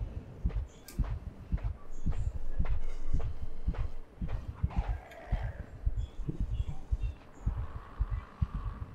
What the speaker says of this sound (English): The heartbeat is kind of throwing me off